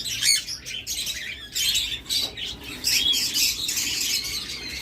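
Many farm birds calling together, a busy, continuous chorus of shrill chirps and squawks with occasional wing flutters, loud and close, no voices.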